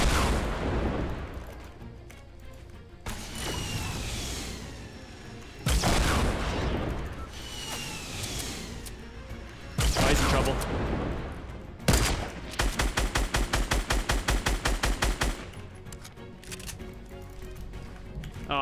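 Gunfire rattles through a Fortnite Battle Royale match, with loud broad bursts and a long rapid run of evenly spaced shots from a compact SMG, close and dense, with no talking.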